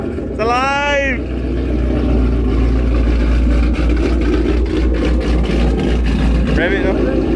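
A Ford Mustang Boss 302 V8 runs with a loud, steady close-up rumble after starting, as excited voices talk over it at the start and end.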